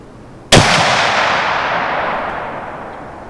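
A Savage Model 220 shotgun fires a single 3-inch slug outdoors: one sharp, loud blast that rings out into a long, decaying echo.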